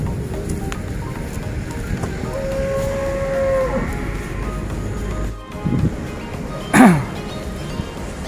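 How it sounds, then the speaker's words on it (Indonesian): A cow lets out a low moo outdoors at a sacrificial livestock market, over a steady wash of wind or ambient noise, with a brief sharper call near the end. "Mantap sapinya."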